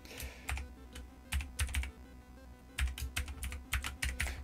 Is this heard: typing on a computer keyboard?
yes